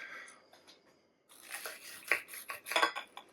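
A knife cuts through a tender pan-fried venison chop on a plate, with close scraping and clinking of cutlery on the dish, a short pause, then a busier run of cuts.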